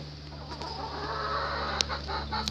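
Roosters and chickens cluck softly in a farmyard over a steady low hum, with a few faint bird sounds and occasional light clicks nearby.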